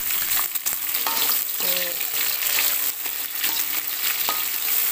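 Water spinach (kangkung) stir-frying in a wok, a loud, constant hiss of frying with occasional utensil scrapes and clinks, near and without speech.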